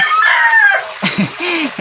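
Hungry chickens close by, a rooster's strained crow followed by a few short clucks and squawks.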